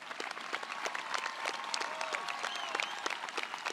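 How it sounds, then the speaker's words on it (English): Steady applause fills a high school graduation ceremony, many hands clapping densely and evenly at a moderate distance with no pause. "One more round of applause for these individuals."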